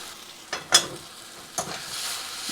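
Garlic and ginger sizzle in a hot pan for a lotus stem keema curry, with a few sharp stirring scrapes over a steady frying hiss, close by.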